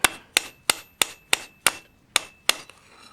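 Hammer blows on hot metal being forged into a Halloween torture mask, eight sharp ringing strikes in a steady rhythm, close and loud, with no talking.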